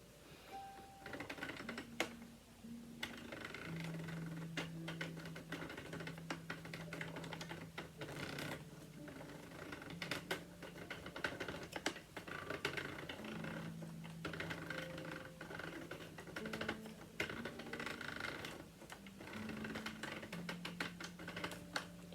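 A Sentro knitting machine cranked on its slowest setting, working in tube mode, gives off a fast, steady run of plastic clicks and ticks with faint tonal whirs throughout, quiet and close, no voices.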